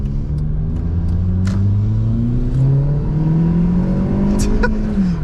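A turbocharged Toyota Corolla accelerates hard at full throttle, its tone climbing steadily in pitch, loud and close, with a few faint clicks and ticks over the roar.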